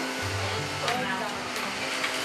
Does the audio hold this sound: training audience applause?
no